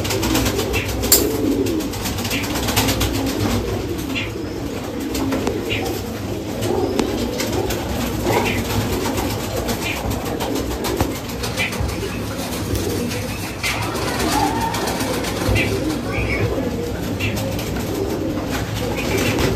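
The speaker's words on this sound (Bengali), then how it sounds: "এমনি তো সারেনপুরি পায়রা যেন খুব খচ্চর হয়" Saharanpuri pigeons coo in a continuous, overlapping chorus for about twenty seconds, close and steady, with no talking.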